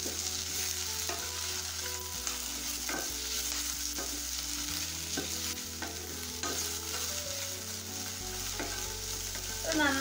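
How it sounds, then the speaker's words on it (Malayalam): Ivy gourd with onion and spices is stirred in a hot pan, a soft steady sizzle with repeated scraping strokes of the spoon, close and fairly quiet. "ഇവ ചേർത്ത് നന്നായിട്ട് ഇതിനെ ഒന്ന് മിക്സ് ചെയ്തെടുക്കാം"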